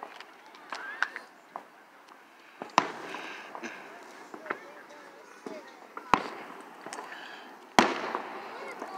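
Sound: fireworks exploding at Fourth of July show

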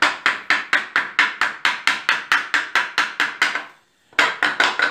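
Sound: screw being driven into wood joint

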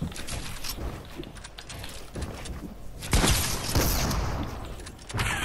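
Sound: gunshots through a wall in the video game Fortnite

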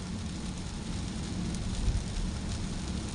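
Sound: rain falling on a car on the motorway

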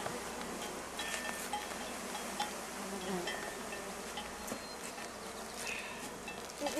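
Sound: honey bees buzzing in a hive

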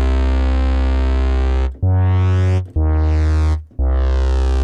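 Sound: Ableton Operator synth bass with envelope follower filter opening, vowel sound

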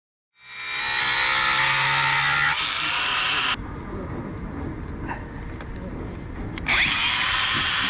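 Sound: grinder cutting hexagon head of stainless steel bolt

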